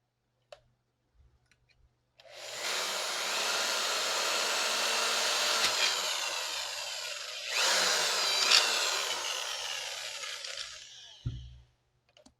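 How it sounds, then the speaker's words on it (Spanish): A power drill enlarges holes in a workpiece in two sustained whirring bursts, close and loud, with a brief pause and slight pitch shift between them and quiet gaps at the start and end. "Entonces sigo ampliando los agujeros."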